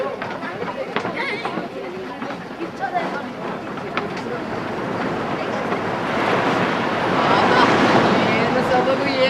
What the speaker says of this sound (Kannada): ಅದು ಆಳೆತ್ತರದ ಅಲೆಗಳನ್ನು ನೋಡು.